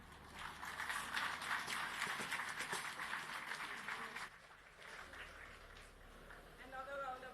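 Audience applause at a housing development handing over ceremony in Cherry Gardens, Jamaica, a dense sustained clapping from a crowd that dips midway, then resumes more softly with a voice speaking over it.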